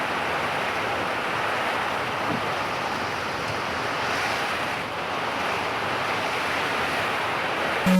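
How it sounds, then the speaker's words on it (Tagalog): Typhoon Karina drives heavy rain and strong wind, a loud, constant rushing roar with wind buffeting the microphone throughout and no pauses. "Grabe ang lakas ng ulan at hangin."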